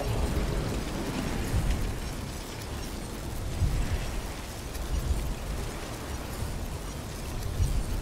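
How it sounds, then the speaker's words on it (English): A magic explosion in the video game Witcher 3 rumbles as a dense, continuous low roar with crackling debris, loud and sustained throughout with no speech. "A magic explosion of some sort."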